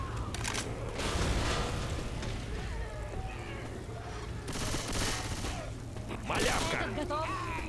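Gunfire in the zombie shooter Left 4 Dead 2 on the Dead Center campaign: repeated bursts of rapid automatic fire and booming shots over a constant low rumble, with voices speaking over the fighting.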